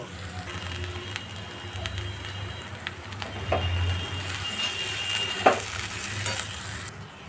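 Ghee hits a pan of shama dana pulao scattered with chopped coriander leaves and sets off a steady, close sizzle with faint stirring scrapes and occasional soft clinks.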